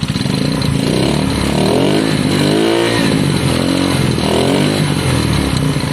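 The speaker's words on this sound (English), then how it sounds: "That's why we're running it up again, just to double check that it is okay" A KSR motorcycle engine being run up, with its gearbox fitted back to front and no airbox, drones loud and steady at close range, its pitch sweeping up and down through several revs over a constant rough rumble.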